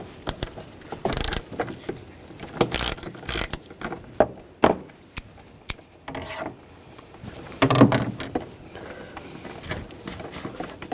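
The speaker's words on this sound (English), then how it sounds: "Now I'm going to use a 5mm hex socket." A ratchet fitted with a 5mm hex socket loosens a screw on the thermostat housing area of a 2009-2017 Volkswagen Tiguan, giving bursts of close, dry clicking and short mechanical rattles spread over several seconds with quieter gaps between.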